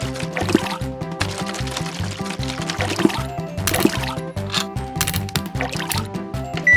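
Cleaning liquid is poured and sloshed into a tank for a LEGO toy car wash, a wet gurgling stream over a steady rhythmic mechanical hum with small drips and splashes.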